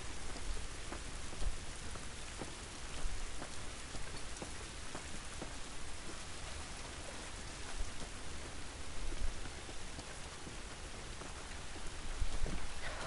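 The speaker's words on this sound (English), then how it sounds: "this rain ain't gonna do us any good" Steady rain in The Last of Us Part 2, a dense even hiss of drops pattering on surfaces, soft and continuous throughout with a few slightly louder splashes.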